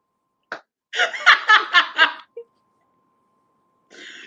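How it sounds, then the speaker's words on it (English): A loud, close burp rolls out as a series of rapid guttural pulses lasting about a second, preceded by a short sound and followed by quiet. "It was a hiccup and a burp."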